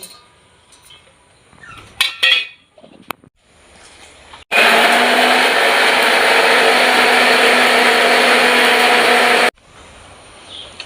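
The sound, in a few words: mixer grinder blending spices into paste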